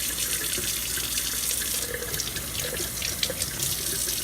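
Tap water runs steadily into a sink as broccoli sprouts are rinsed. The close, continuous splashing is even throughout and has a few light drips on top. No one talks.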